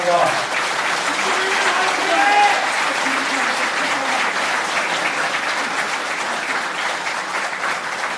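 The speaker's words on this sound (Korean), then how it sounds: "박수 한번 더 주시기 바랍니다." A large audience at a 2017 Korean presidential candidacy announcement claps continuously for several seconds, a thick, even wash of applause that holds steady and fades only slightly toward the end.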